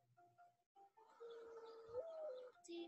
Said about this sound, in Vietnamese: Chim bồ câu.